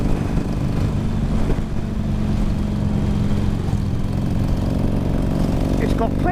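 A Harley-Davidson 883 Sportster motorcycle engine holds a loud, steady, low rumbling drone throughout, with a person talking over it.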